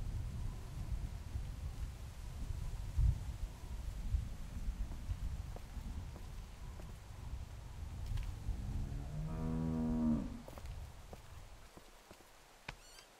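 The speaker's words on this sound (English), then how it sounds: "Do you want to pet the cow with me?" A cow in The Walking Dead video game gives one drawn-out, low moo near the end, heard over quiet farmyard ambience with no talking.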